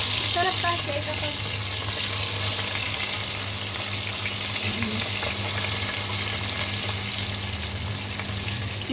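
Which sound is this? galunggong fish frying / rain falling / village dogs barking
galunggong fish frying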